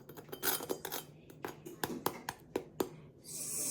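A butter knife taps a crispy, freshly baked apple pie crust, giving about a dozen sharp, hollow clicks in an uneven rhythm, close and fairly quiet, ending in a soft hiss.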